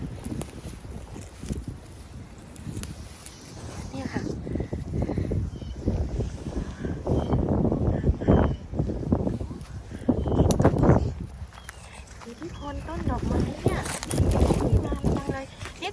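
Strong wind blows outdoors on a cold day in a garden where a Korean herb is being picked for tea. It makes a steady, rumbling rush with louder gusts, and someone talks over it throughout.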